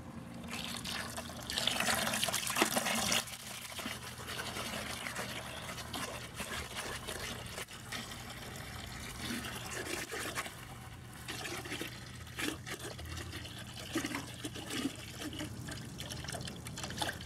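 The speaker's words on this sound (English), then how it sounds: "The water will just keep coming out as long as this end is still in the water." Water runs through a siphon tube, a close, continuous trickle and gurgle that keeps flowing at a fairly even level, with no one talking.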